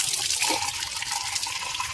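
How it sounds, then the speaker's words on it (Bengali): Tap water pours steadily from a faucet, a continuous close splashing hiss filling the clip without pause and with no voices over it. "এই যে কল থেকে একটু জল নাও।"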